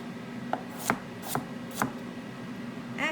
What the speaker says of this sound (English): maybe I think I'm just going to slice these